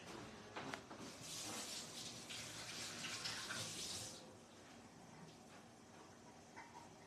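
Tap water runs steadily into a sink while fresh basil is washed, a soft hissing stream lasting about four seconds before easing off.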